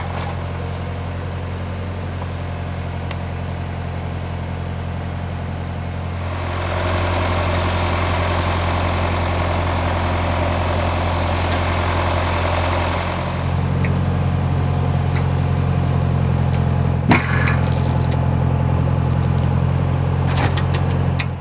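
A crane truck's engine runs steadily, then revs louder as it pulls out, a deep continuous rumble with a heavier low drone near the end and a few faint clanks, close and without talk.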